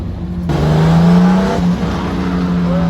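A turbocharged BMW M50 engine on a dyno holds a loud, sustained drone around 4,000 RPM, with steady engine tones that shift slightly in pitch partway through.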